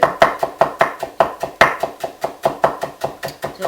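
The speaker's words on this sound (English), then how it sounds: "So I am just dicing it up" A knife chops cilantro on a board in a steady, rapid rhythm of sharp, close strikes, about four per second, with no talking.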